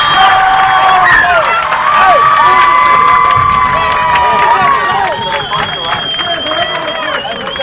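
A loud high school baseball crowd cheers and shouts continuously after a tying run, with children's voices and scattered clapping mixed into the roar.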